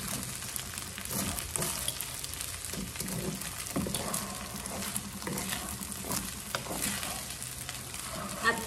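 Bacon and egg fried rice stir-fried in a pan gives a continuous moderate sizzle with scraping and tossing noises from stirring, steady throughout with no talking.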